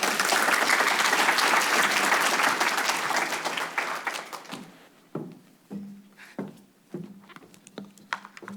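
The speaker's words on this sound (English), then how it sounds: "let's give a big round of applause" An audience applauds at a reading event, with dense, loud clapping that fades out over several seconds into a few scattered claps and light thumps.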